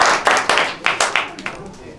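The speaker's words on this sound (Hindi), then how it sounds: "जोरदार तालियां हो जाएगी" Game-show audience clapping for a right answer in a year-end quiz: a few short bursts of hand claps rise and fade at roughly half-second intervals, fairly close and moderate in loudness.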